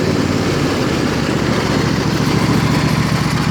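Troy-Bilt Horse 2004 lawn tractor with new spindles, mower blades engaged, running steadily close by with a continuous low engine drone and whirring blade noise, no talk.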